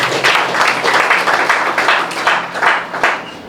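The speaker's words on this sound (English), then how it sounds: "I think you deserve a round of applause for yourself." A crowd at a gathering for Distinguished Senator Saliu Mustapha breaks into sustained, dense clapping that stays loud and steady from start to finish.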